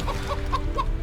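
A chicken clucking in chicken form in Divinity: Original Sin 2, with four short rhythmic clucks over a low steady background hum, close and moderately loud.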